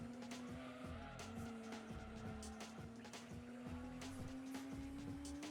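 Race car tyres screech and skid after a spin-out in Gran Turismo 2, a continuous squeal riding over a steady, slowly rising engine drone with repeated rhythmic thumps underneath.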